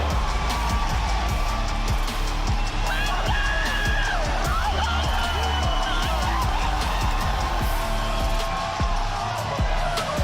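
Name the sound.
sold-out home crowd cheering at esports grand final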